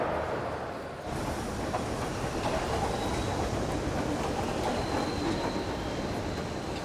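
Steady, loud rumbling of a train rolling along the rails at Newcastle station, a continuous broadband roar with faint high squeals, no voices.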